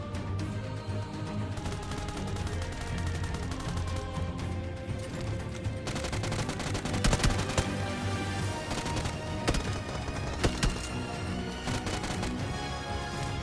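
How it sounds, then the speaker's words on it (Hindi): Gunfire from a battle royale video game: dense, continuous crackle of shots and impacts with several sharper bursts, loud and busy throughout, no talk. "मुझे साइड से भी गन साउंड्स आने लग जाते हैं"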